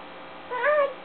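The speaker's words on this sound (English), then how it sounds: "That is a cat." A single short cat meow rises and falls in under half a second, moderately loud and close, with no other sounds around it.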